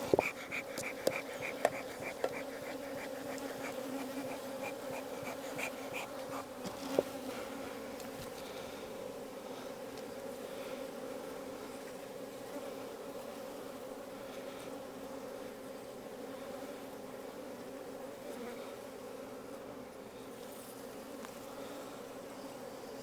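Honey bees buzz around an open beehive during hive inspection, a dense, continuous droning hum of many insects close by. A few faint clicks and knocks are heard near the start.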